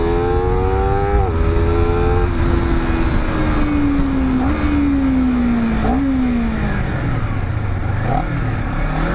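A Honda CBR250RR SP quickshifter motorcycle engine with a stock exhaust revs up and down repeatedly, pitch rising and dropping with each throttle blip, loud and close throughout.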